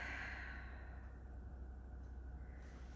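A long soft exhale during a runner's yoga stretch, breathy and close, fading gradually over a few seconds against a low steady room hum.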